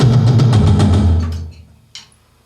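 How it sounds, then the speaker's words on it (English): A drum kit plays a quick fill with two snare hits, one mid-tom and one floor-tom hit over bass drum beats, loud and close, decaying into near silence with one faint later tap. "which is 2 on the snare drum, 1 on the mid-tom, 1 on the floor tom"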